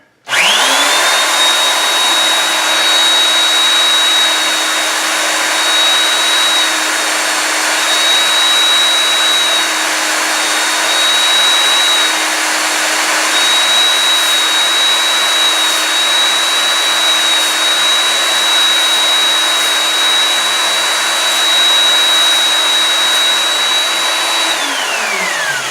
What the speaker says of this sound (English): onto the belt sander.